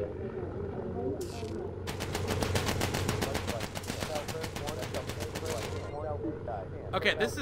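Sustained automatic gunfire fired from below an aircraft in the game Plane Crew rattles in a rapid, steady burst for several seconds. Shorter bursts come before and after it, and someone talks over the shooting.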